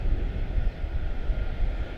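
Jet airliner with a 25-year-old airframe, a Boeing 777-200 bound for Miami, roaring steadily at Charlotte-Douglas International; a loud, continuous low rumble of engines holds for the full stretch with no pauses.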